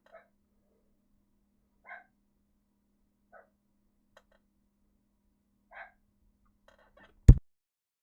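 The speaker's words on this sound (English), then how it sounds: "This motherfucking dog just barks at anything and everything he fucking senses." A dog barks a handful of times, well spaced and moderately faint, as if from another room, before a sharp loud knock or thump close by.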